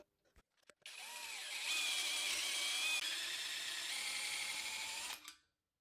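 A power drill spins a lubricated 11.5 mm bit through a socket into the engine block of a BMW 335i, a few brief ticks before a steady, loud whirring grind that holds several seconds and then stops.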